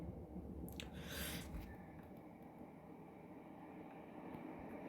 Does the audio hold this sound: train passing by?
yes